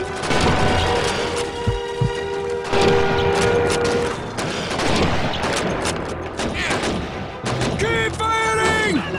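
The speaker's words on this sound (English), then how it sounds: "It's an MG42! We must stop it!" Bursts of MG42 machine gun fire in Call of Duty 2 amid a wider battle, rapid rattling volleys mixed with other gunshots and blasts, with shouting voices over the chaos.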